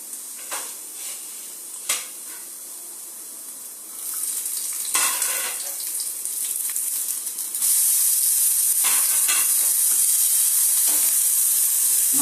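Garlic frying in a pan with chili flakes for a tomato Napolitana sauce makes a steady hiss and sizzle. It swells louder partway through and is punctuated by short stirring scrapes.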